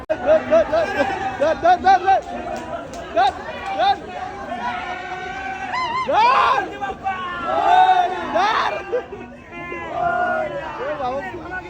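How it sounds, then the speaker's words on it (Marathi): A dense, jostling crowd at the Dagdusheth Ganpati temple in Pune, with loud nearby chatter, overlapping voices and bits of laughter filling the whole stretch. "बाबा पूर्ण गर्दी करून ठेवली जागाच नाही"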